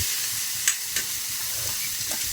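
Fish sautéing with soy sauce in a pan, a steady loud sizzle and hiss throughout with a couple of faint stirring clinks.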